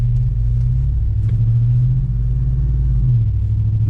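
A 2021 Ford F-250 with the 7.3L engine and an MBRP exhaust heard from inside the cab with the windows up: a steady, deep low rumble at cruising pace with a slight rise in pitch, no talking.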